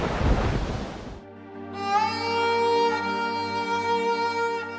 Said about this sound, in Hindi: बंगाल की खाड़ी से उठा समुद्री तूफान आइला।